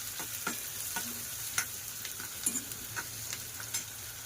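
Dried Bombay duck fish roasting in a pan with onions, giving a steady soft sizzle broken by light scraping stirs and a few small crackles, close and moderately quiet with no talking.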